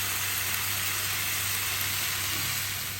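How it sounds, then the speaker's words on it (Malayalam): Hot oil hisses and sizzles steadily in a frying pan on the stove, a continuous close-up crackle with no pauses and no talk, ready for cooking fish. "അപ്പോൾ വേറൊരു പാനിൽ എണ്ണ ചൂടാക്കി അത് ചൂടായി വരുന്നുണ്ട്."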